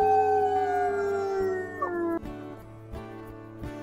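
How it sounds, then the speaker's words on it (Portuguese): A wolf in a wolf video game lets out a long, drawn-out howl, a clear tonal cry that holds steady and then slides downward before breaking off, heard close and alone. "Esses uivo comprido da flecha, meu Deus, que desespero."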